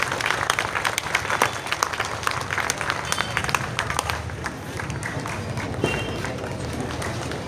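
A church audience applauds performers after a staged Way of the Cross at Rathinapuri, Coimbatore, with steady, dense clapping from a large crowd at close range that holds for the whole stretch.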